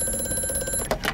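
A telephone rings inside the horror video game Amnesia: A Machine for Pigs, with a steady bell-like electronic ring that runs for about a second, then breaks into louder bursts at the end.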